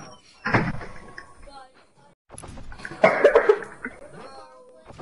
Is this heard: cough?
yes